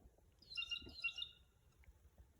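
A raven or blue jay calling from a tree outdoors, a short burst of harsh, high chirping calls at moderate distance, fairly faint against quiet surroundings.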